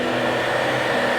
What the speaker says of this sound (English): Take your blow dryer and dry again